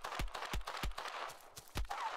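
Gunfire in the Will To Live Online video game, aimed at dogs: about six sharp shots fire in a quick, slightly uneven rhythm, moderately loud with faint background noise between them.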